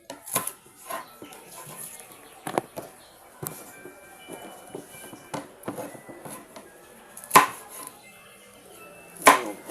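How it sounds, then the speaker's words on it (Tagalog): Baguio beans are chopped into small pieces with a knife, giving irregular sharp chopping taps on a board, close up, with a few louder thwacks near the end and faint background sounds. "Kailangan hiwain siya ng maliliit no para makain naman natin"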